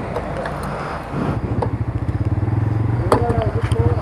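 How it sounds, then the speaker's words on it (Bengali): A new Bajaj Pulsar N160 motorcycle engine, its low rapid pulsing exhaust note rising after the first second and staying close and steady, with a voice talking over it and a brief squeal near the end. "আর ওই যে আমাদের নিউ বাইক, পিছনে ইউসুফ ভাই বসা, আর রাইড করতেছেন সালমান"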